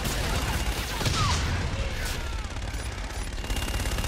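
Artillery strike in Call of Duty Infinite Warfare, heard as dense continuous battlefield gunfire and booms rumbling at steady loudness, with radio-style voices faintly mixed in.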